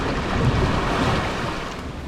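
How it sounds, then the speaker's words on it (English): Rushing water and steady wash from a river rapids boat ride in Planet Coaster, a continuous broadband churn with airy, wind-like hiss, moderately loud and without voices. "There's the river rapids."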